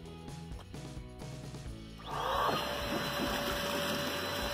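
A homemade air blower for ponds switches on and runs with a steady loud whooshing roar and a high whine after a quieter start.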